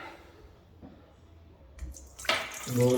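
Quiet handling noises, then about 500 ml of water starts pouring and splashing loudly into a pot for chicken karahi, the sound building and ringing as the pot fills.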